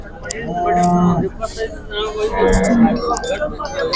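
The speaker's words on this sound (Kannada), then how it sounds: "ಇದು ಏನ್ ತಳಿ ಹಸು ಏನ್ ತಳಿ H F H F H F ಹಸು ಅಂತೆ" A Holstein Friesian cow moos loudly twice, long low bellows close by, with people chatting and cattle market noise in the background at the Sindhanur cow market.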